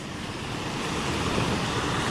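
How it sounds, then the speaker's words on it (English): Water pours and crashes over a beaver dam outdoors in a strong, steady broadband rush that holds even and close, with some wind noise on the microphone and no voices. "I can definitely hear the water crashing"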